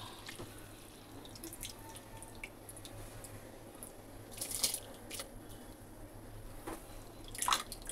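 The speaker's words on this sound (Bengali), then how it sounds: "চালটা ধুয়ে নিলাম, এবারে ছেড়ে দিই।" Washed rice tipped into a pot of already boiling water in a home kitchen: a low, steady bubbling bed with two brief, soft splashes, faint and without speech.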